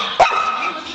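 An English bulldog gives one sharp bark close by, followed by a fading whine over a steady background hum.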